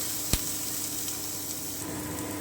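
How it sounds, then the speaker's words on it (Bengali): Radish sizzling in a hot pan while being cooked into a sweet and sour chutney, a steady frying hiss with one sharp clack of a spoon near the start. "এবারে আমি মূলোটাকে দিয়ে দিচ্ছি একটু নেড়ে নিচ্ছি"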